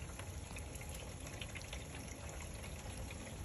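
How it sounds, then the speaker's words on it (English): Rainwater pours steadily off a roof during a drainage test, a continuous close gushing wash that holds at an even level throughout with no voices. "Pouring off the roof pretty good."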